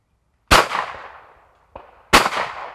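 A shotgun fires at a clay target on a shooting course, two sharp loud blasts about a second and a half apart, each with a long decaying echo and a faint click between them.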